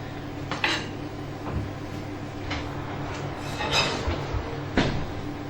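Warm plates and cutlery handled in a kitchen while plating poultry, scattered clinks and clatters of china and metal at irregular intervals over a steady background hum, close and moderately loud.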